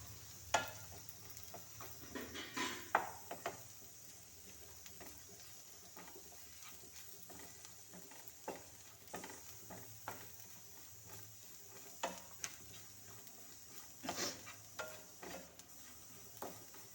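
Turmeric, chili and coriander powder fry in hot oil for a green peas and potato masala curry, a soft sizzle under intermittent scraping stirs of a spoon against the pan, with a few sharper clinks along the way.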